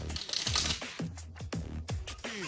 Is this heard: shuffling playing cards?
yes